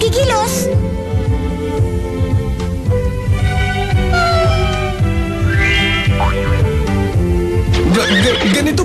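A horse neighs and whinnies repeatedly over dense, loud orchestral music and voices, with clip-clop-like beats running underneath.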